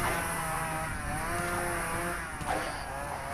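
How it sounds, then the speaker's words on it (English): A chainsaw running in the Dead Frontier video game, a steady buzzing engine drone held at a constant pitch throughout, fairly close and continuous with no talk over it. "I hope the chainsaw doesn't make too much noise."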